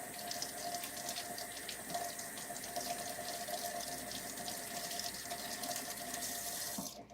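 A tap runs steadily, water splashing into a hookah base with a continuous close hiss that cuts off at the end.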